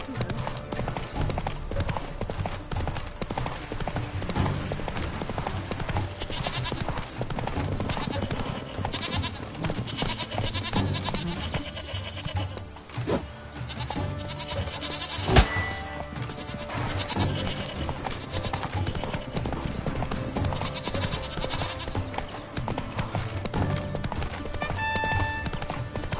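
Horse hooves clip-clop steadily in The Witcher 3: Blood and Wine, a continuous rhythmic trot mixed with game ambience and animal bleats, loud and unbroken throughout.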